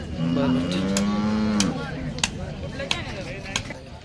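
Cattle at the Sangola cattle market in Solapur district lowing in a long, loud drawn-out moo, followed by a busy market background of voices and scattered knocks.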